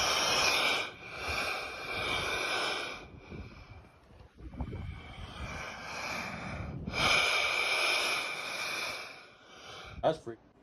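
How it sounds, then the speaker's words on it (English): Ocean waves surging through rock gaps and blowholes make a loud, rhythmic snorting, wheezing breath with long rasping exhales and gasping swells, alone without talk. "The waves of the ocean are making these rocks sound like they're breathing."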